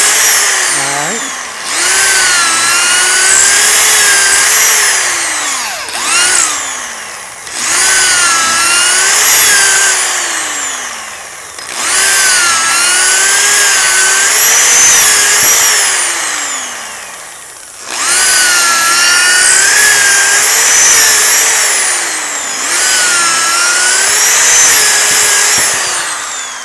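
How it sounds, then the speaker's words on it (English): A power drill bores holes, with several loud whining bursts of a few seconds each separated by short pauses, close by and with no talk over them. "So we'll stop drilling for a minute."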